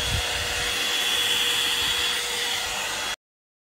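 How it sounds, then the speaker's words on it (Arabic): A hair dryer blows steadily at close range, a continuous airy whoosh with a faint motor whine, used to straighten hair, running without talk until it cuts off abruptly. "راح اسوي الحين لكم ستريتنر مع هاي الاستشوار"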